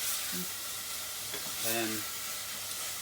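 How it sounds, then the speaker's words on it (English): Celery, carrots and rosemary sweating in a soup pot for a rustic Tuscan bean soup, a soft steady sizzle close by, with brief faint tones from the kitchen over it. "celery, and our rosemary, carrots, and we're just sweating them off"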